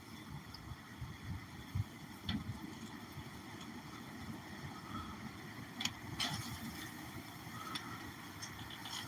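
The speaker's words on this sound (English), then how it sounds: "That tells you how bad the wind really is." Strong wind from a winter bomb cyclone roars steadily outdoors as a low, continuous rumble with a few faint gusts and knocks, and no talk.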